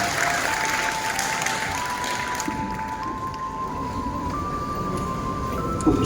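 Applause fills a hall at a newspaper's anniversary and award ceremony, a broad steady clapping spread across the clip while a sustained tone, likely instrumental, glides upward underneath.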